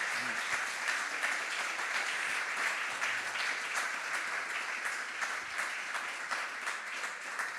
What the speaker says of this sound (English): I want to ask you a big applause and warm applause to Professor Pissarides